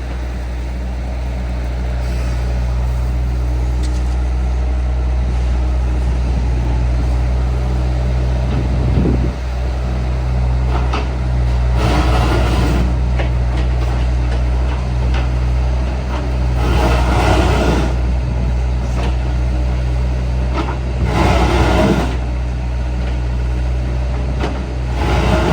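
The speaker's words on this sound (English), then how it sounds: "Means the 360 and the dump trailer are out. Just scraping some chippings off some hardcore." 360 excavator working with a dump trailer, scraping chippings off hardcore on a farm site: a constant low engine drone with recurring scraping, grinding bursts every few seconds, close and loud, no talk.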